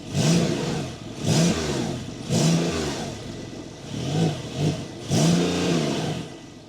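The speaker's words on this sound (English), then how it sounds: "I'll rev it a little bit and then you tell me in the comments, what do you think about that sound?" A stationary Porsche 911 GTS 4 Hybrid revved repeatedly, five loud rising and falling engine blips in quick succession with a brief dip to idle between each, close and with no talking.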